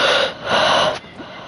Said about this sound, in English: You're breathing too loud.